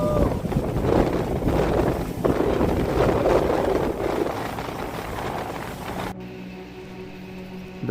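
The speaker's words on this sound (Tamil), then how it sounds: "இப்போ நாங்கள் இதே டேமில் இருக்கிற ஒரு போட் ரைட் தான் போகிறோம்" A motorboat ride on Banasura dam brings a steady loud engine drone mixed with wind rushing over the microphone, easing into a quieter, cleaner motor hum for the last couple of seconds.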